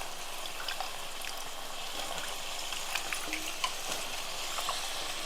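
Egg pendalam curry with chopped yam pieces and chili powder sizzling and frying in a pan while being stirred, a steady soft crackle with faint scraping clicks, alone and fairly quiet.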